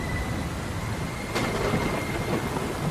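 Heavy monsoon rain pours steadily in a village while a sharp crack of thunder breaks through midway, followed by rolling rumble under the constant hiss of the downpour.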